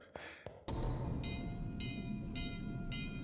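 A train in the video game Starstruck: Hands of Time rumbles past loudly and steadily, preceded by a few sharp knocks and carrying repeated high tonal squeals.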